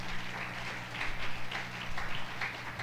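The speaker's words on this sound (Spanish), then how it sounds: "Denle un aplauso al Señor Jesucristo" A church congregation breaks into brief applause, a busy, even clatter of many hands with a low steady hum beneath, heard on its own without talk.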